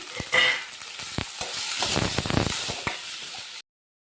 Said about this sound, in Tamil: வதக்கிறதுக்கு எண்ணெய் ஊற்றிக்கலாம் வெங்காயம் போட்டுக்கலாம் நண்பர்களே அடுத்து தக்காளி போட்டுக்கலாம்